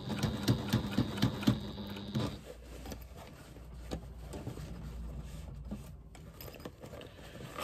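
Sewing machine stitching a bag seam with the presser foot, a quick burst of close, even rapid stitching for about two seconds, then stopping and leaving only quiet handling noise.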